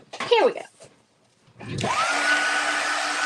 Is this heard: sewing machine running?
yes